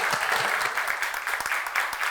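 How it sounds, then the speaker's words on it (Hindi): Brief steady applause from a studio audience on an Independence Day talk show, a soft even wash of clapping with a few sharper claps near the end. "जोरदार तालियां स्नेहा जी के लिए"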